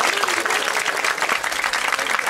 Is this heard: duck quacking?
no